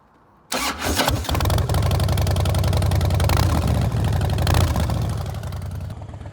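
A 15-year-old Harley Davidson Fatboy fires up through loud aftermarket pipes: a quick crank catches into a roaring, throbbing idle that stays loud and close, with no talk.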